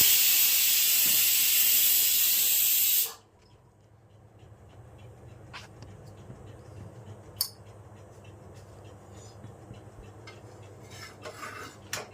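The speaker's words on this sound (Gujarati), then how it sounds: "પડખે કુકર સુસવાટી મારે છે, એ ગુવારનું શાક બની રહ્યું છે." A pressure cooker cooking guvar (cluster bean) curry lets out a loud, steady steam hiss for about three seconds, then stops abruptly. Quiet kitchen clinks follow.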